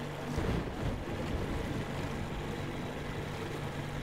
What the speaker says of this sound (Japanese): ちょっと嵐がひどいですね。